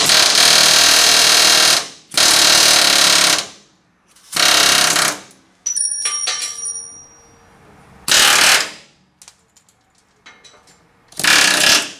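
Air chisel hammering at slotted rivet heads on a 1974 Ford F100 frame, loud close bursts of rapid metallic pounding in separate runs of a second or two, with pauses and lighter metal ticks and clinks between them.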